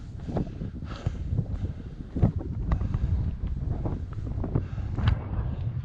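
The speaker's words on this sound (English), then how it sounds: "Oh, it's so windy on the top." Strong wind on the summit of Catbells above Derwent Water buffets the microphone in heavy, irregular gusts, a loud continuous roar with sharp bursts of rumble.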